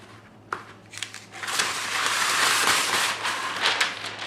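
Parchment paper is pulled and handled near a cake being frosted, a sustained crinkling, crackling rustle with a few sharp snaps, fairly close and alone.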